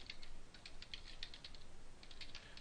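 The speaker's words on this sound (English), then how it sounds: "I'm going to type in an email address that I want to send to." Quick, steady keystrokes on a computer keyboard as an email address is typed, light clicks in a continuous run, faint and close over a low background hiss.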